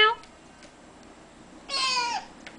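A cat-like meow comes as a short call near the start and a longer, louder one toward the end, with quiet between.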